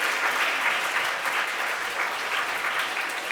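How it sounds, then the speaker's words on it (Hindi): An audience applauds two children at a school competition event in Ramesh Nagar, Delhi, a steady, even patter of many hands clapping at moderate level, heard alone without talk. "एक बार इन बच्चों के लिए, दोनों के लिए जोरदार तालियों द्वारा इनका अभिनंदन कर दें।"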